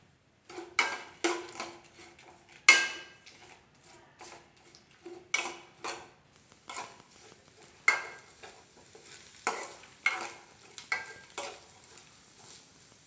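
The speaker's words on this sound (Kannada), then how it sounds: "ಈರುಳ್ಳಿ ಹಾಕ್ಕೊಂಡು ಇದನ್ನು ಫ್ರೈ ಮಾಡಿ ಚೆನ್ನಾಗೆ" Onions and green chillies fry in a pan, heard as quiet sizzling broken by sharp, separate scrapes and clinks of a spatula against the pan every second or so, close by, with no talking.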